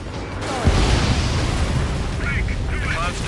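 A missile launches from an F-2A jet in Ace Combat 7 with a deep roaring whoosh and boom over steady engine rumble, while short electronic lock-on beeps sound in the background.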